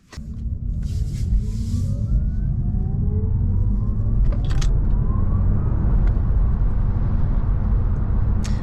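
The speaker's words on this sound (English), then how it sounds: "The acceleration of this Audi E-Tron GT is amazing." A 2022 Audi E-Tron GT electric coupe accelerating hard on wet roads in the Netherlands, a steady loud low rumble with rising whine tones sweeping upward, heard from inside the car with no talking.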